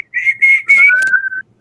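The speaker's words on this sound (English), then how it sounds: "we haven't had the whistle yet." A whistle blown to signal the start of a reading sprint: several short, bright, high-pitched tones in quick succession, ending in a longer, slightly lower drawn-out note, loud and close.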